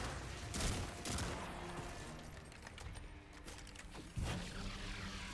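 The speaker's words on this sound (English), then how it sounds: "Someone threw a grenade at me." Gunfire and a grenade blast in the Destiny 2: Forsaken video game, quiet and distant-sounding, with a couple of sharp bursts and rattling shots spread over a low rumbling background.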